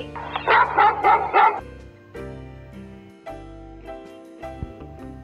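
A dog sound effect in a children's phonics song: a burst of several quick yapping barks over a music backing that carries on alone after the barking stops.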